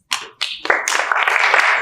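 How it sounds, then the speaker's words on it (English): A conference audience at a data and AI event in San Francisco starts clapping for a panelist, a few sharp claps that quickly swell into close, continuous applause. "Can we have a huge round of applause for Prashant S. Mudwar"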